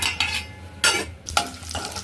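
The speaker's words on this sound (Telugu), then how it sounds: "స్టవ్ అంటించింది నూనె వేసింది పోపు గింజలు వేసింది" Tempering seeds frying in oil in a pan on a stove, with short bursts of hissing sizzle and spluttering close by, separated by brief quieter gaps.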